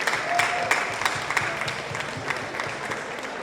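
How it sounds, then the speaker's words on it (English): Audience applause at a natural hair and health expo in Southern California, a steady wash of many hands clapping at moderate distance, fairly soft and even, with a few sharper claps standing out. "Come on, we got to give a hand clap for California"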